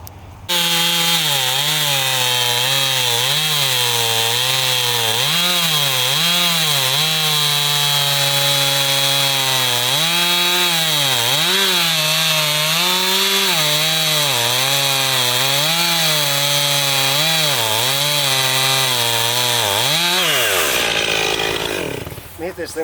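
A chainsaw cuts firewood on a farm, its engine loud and close, revving up and down in repeated surges as it bites through the wood for about twenty seconds before dropping away.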